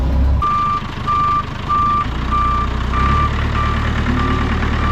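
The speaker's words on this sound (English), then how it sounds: "See if we got a functioning beeper?" A truck's reversing alarm beeps in a steady, evenly spaced series of loud, close tones over a deep rumbling engine at a hydro dam construction site.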